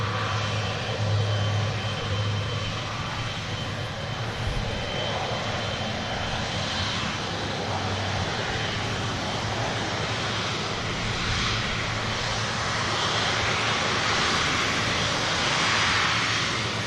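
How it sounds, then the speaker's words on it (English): A Canadian Air Force C-130 passes near an airport, its engines giving a loud, steady, broad drone that holds through the whole stretch with no one talking. "That was a Canadian Air Force C-130, in fact. That was noisy,"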